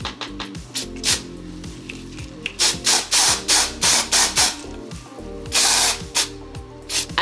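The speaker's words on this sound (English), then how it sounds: "I'm just going to spray wherever the lace is inside of this wig" A tint spray bottle hisses onto wig lace in quick repeated bursts, close up, with a rhythmic series of short sprays and a few longer ones.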